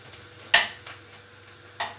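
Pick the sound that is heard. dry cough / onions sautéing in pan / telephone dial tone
onions sautéing in pan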